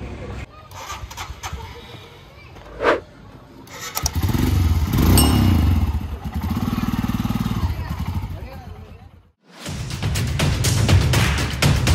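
A rented motorcycle is checked over on a mountain road trip near Manali: engine bursts and revving with clattering handling noises, interrupted by a brief pause, while people talk nearby.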